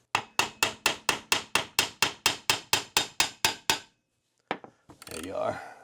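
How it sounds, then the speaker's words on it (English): A hammer taps a dowel pin on a 2004 Suzuki RM-Z250 engine during teardown: a quick steady run of about fifteen sharp metallic knocks, close and clear, then a pause, a couple more taps and a brief rustle. "So we're just going to give it some taps so that that dowel pin will start releasing."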